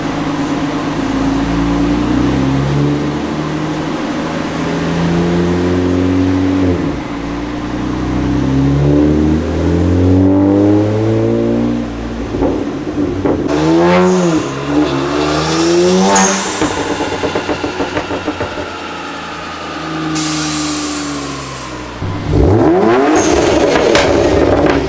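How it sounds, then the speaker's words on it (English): A modified BMW 335i convertible strapped to a dyno, its engine revving up through repeated rising pulls with sweeping pitch, loud and close, with sharp throttle blips and strong fans running. "It was time to set up the dyno for my car, strap her down, plug in the analyzer for the RPM readings"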